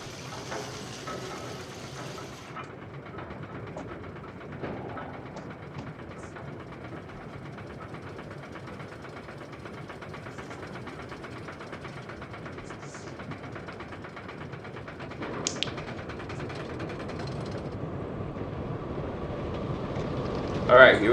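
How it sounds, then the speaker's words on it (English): Roller coaster train rumbling past nearby in the theme park video game Planet Coaster, a sustained rolling mechanical drone at moderate level that swells toward the end, with a person talking over it. "What's that noise? Oh, there's a ride right next to me."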